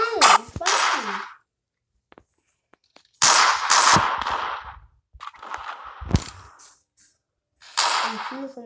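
A shooting video game fires in short, sharp bursts separated by near silence, giving four or five loud clusters of shots and clatter spread unevenly across the stretch.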